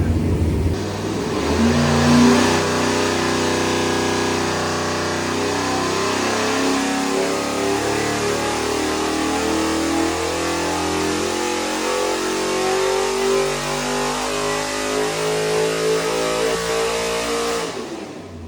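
A Ford F100 engine on a dyno revs up toward 7000 RPM in a long pull, a loud, close roar climbing steadily in pitch and holding high before dropping off as the throttle is lifted.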